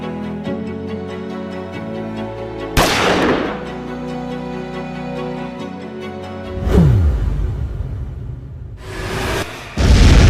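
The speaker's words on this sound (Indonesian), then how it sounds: "Gedung amunisi Belanda meledak." Several heavy blasts and booms burst out in sequence, loud and close, with broadband crackling debris between them over a rumbling, music-like background.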